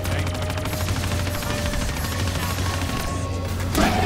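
Rapid, continuous gunfire from Call of Duty zombies in the Shadows of Evil map, dense bursts of shots hammering on without pause, loud and close throughout.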